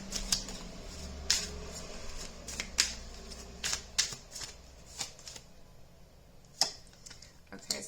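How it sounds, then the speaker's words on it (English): Tarot cards are shuffled up close in soft, crisp riffling bursts, repeated a handful of times with quiet gaps between, faint and without talk. "Let's pull some more cards on this."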